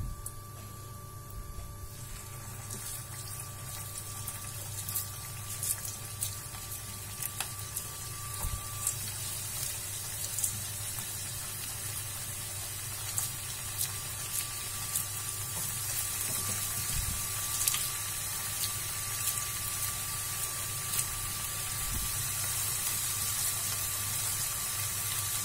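Vegetable Manchurian balls fry in hot oil in a home kitchen, giving a steady, continuous sizzle with faint crackles throughout, close and even in level, with no talking.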